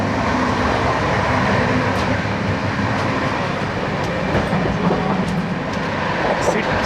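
An LHB-rake express train runs at close to 130 km/h, making a loud, steady roar and rumble inside the coach with a faint rhythmic clatter from the wheels.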